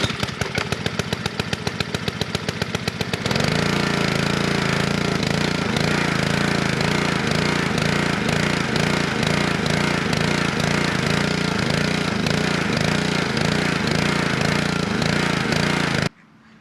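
A pressure washer's gasoline engine is pulled over with rapid rhythmic cranking, then catches and runs loud and close with an uneven, rough idle for over ten seconds before cutting off.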